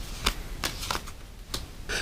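Specialized apprentice cards for the board game Rococo being shuffled by hand, a few quick riffling bursts of card noise spaced across two seconds, close and fairly quiet with no talk.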